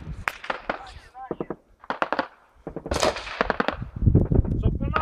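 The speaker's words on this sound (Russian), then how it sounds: "Стрельба!" Sharp bursts of gunfire crack out in scattered volleys during combat at Donetsk airport in Ukraine, some close and loud, while people talk and shout over the shooting.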